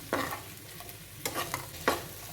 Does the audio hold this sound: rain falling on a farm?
no